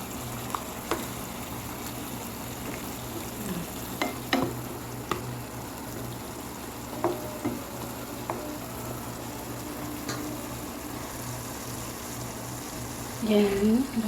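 Chicken gizzards in a pan of water give off a steady bubbling simmer with occasional soft clinks and stirring, and a voice breaks in briefly near the end.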